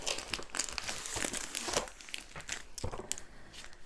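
Close crinkling and crackling of packaging as a cardboard box holding a diamond art painting kit is opened, with irregular rustles and a few sharper tearing bursts.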